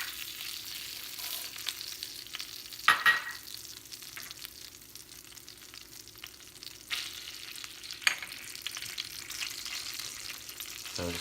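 Ingredients for cochinita pibil fry in a pan with a steady, soft sizzle, broken by a couple of brief scraping stirs and tosses, heard close and fairly quiet.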